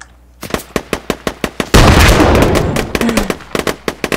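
Gunfire in the tactical shooter game Squad: a rapid string of sharp, loud shots, then a dense roaring burst of fire and impacts, then more quick regular shots close by.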